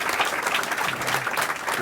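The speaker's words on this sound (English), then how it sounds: "Let's give him a round of applause." Enthusiastic applause from a startup event audience, a dense continuous patter of clapping hands throughout.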